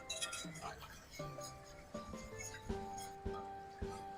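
Sauce for Swedish meatballs stirred in a pan over medium heat, with a utensil clinking and scraping against the pan in a steady series of light, close taps.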